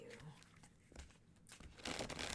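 Tarot cards are shuffled, giving soft papery crinkles and riffles that grow louder toward the end, close and quiet with no talk.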